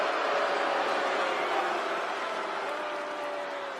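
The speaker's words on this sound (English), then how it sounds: "It's more just a crowd booing." Wrestling crowd booing during a promo, a broad sustained roar of many voices filling an arena, steady and loud throughout with no clear individual words.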